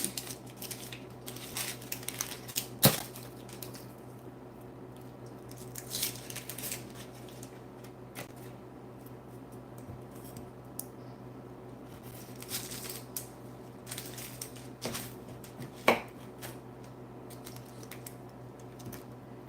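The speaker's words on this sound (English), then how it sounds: "Right now, I'm just getting some onions diced up." Onions being diced with a knife on a cutting board, a series of light irregular tapping chops with a few sharper clacks, fairly quiet over a steady low hum, no speech.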